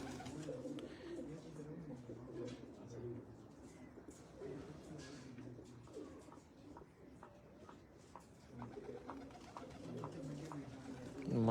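Pigeons coo steadily in low rolling murmurs throughout, close by, under scattered speech and some shuffling.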